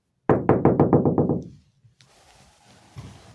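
About eight quick knocks on a Ford E350 Econoline van panel treated with sound deadener, close and fairly loud, each a dull, damped thud fading fast, followed by soft handling noise.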